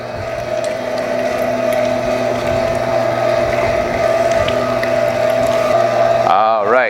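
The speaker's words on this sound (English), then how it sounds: "Just going to run through the first grind real quick, making sure everything's good and tight" Meat grinder running pork through a first grind for sausage, giving a continuous close motor whine with a steady mechanical grinding drone that stops abruptly at the very end.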